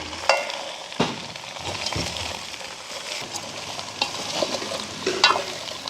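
Moringa drumsticks sauté in a pan in a village kitchen, a steady sizzle and fry with occasional stirring scrapes and clanks, close and continuous, with no speech.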